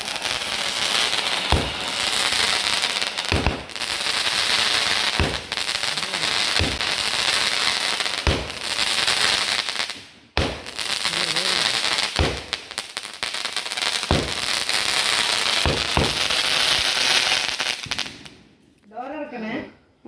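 Vishu fireworks and firecrackers burst repeatedly, sharp loud bangs at irregular intervals over a constant crackling hiss, with crowd noise and voices underneath.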